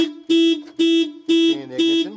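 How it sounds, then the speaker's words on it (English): A Land Rover Discovery 2 car alarm blares in loud, evenly spaced pulses, four harsh electronic horn blasts about half a second apart with short gaps between them. "alarm goes off"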